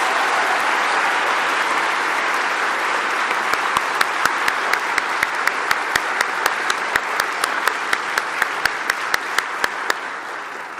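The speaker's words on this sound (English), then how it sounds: "Can we just have one more round of applause for those amazing speakers from your class?" Sustained audience applause at a college commencement ceremony, a steady wash of clapping from a large crowd held at even loudness, with a few sharp individual claps standing out in a quick rhythm toward the end.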